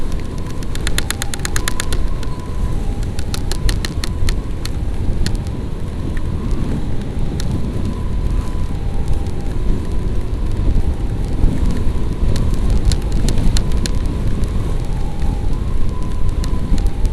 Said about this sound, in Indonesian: Wah, hujannya makin gede nih.